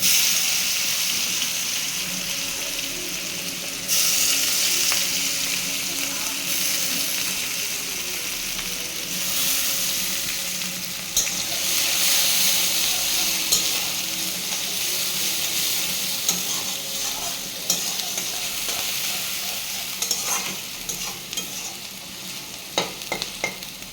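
Onions hiss and sizzle in dark oil left over from frying fish, stirred in the pan with repeated scraping clatters over a continuous loud frying roar, close by with no voices.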